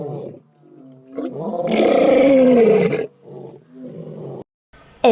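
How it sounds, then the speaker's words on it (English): A lion roars loudly and close up, with a few low grunting breaths building into a long, powerful roar and then trailing off into shorter grunts. "It's a lion."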